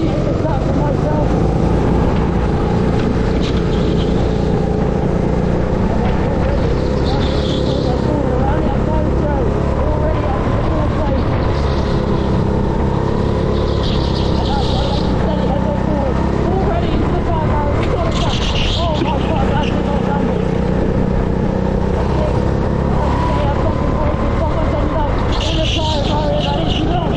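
Racing kart engines drone loud and steady from an onboard position at the start of a junior league race at Karttrak Cromer, whining continuously under wind buffeting and a voice talking.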